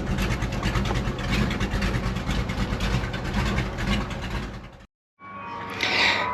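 The running engine of a 1934 hot rod, a steady low rumble with rough texture at close range, broken by a brief silent gap before it resumes.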